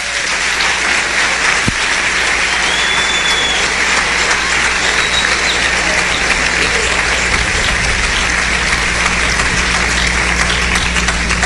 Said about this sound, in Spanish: Denle un buen aplauso